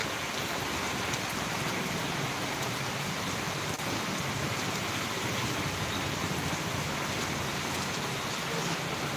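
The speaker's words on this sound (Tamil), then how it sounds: "நல்ல மழை" Steady rain falls continuously in Tirunelveli, a dense even hiss of drops on surfaces, moderately quiet with no talking.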